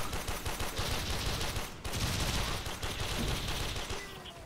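Dense, continuous gunfire in the Warframe video game, a loud, busy wash of rapid shots with a brief dip near the middle before the firing resumes.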